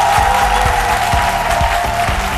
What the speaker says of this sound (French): Son nom, c'est Guy Martial Yapi, qu'on applaudit très fort.